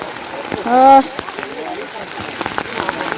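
Rain falls steadily as a soft, continuous hiss in an outdoor rural setting, with voices talking over it and a brief louder tone near the start.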